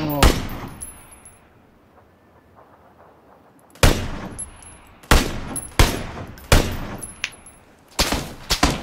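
Sharp gunshots in PlayerUnknown's Battlegrounds, a loud opening crack, a quieter lull, then a series of spaced, punchy shots ringing out one after another.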